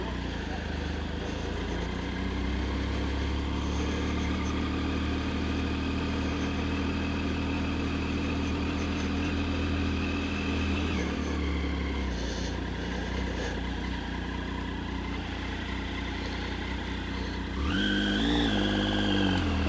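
A Triumph Street Triple 675 motorcycle idles in neutral with a steady, close, low engine drone that wavers slightly midway, then a short rise in pitch near the end.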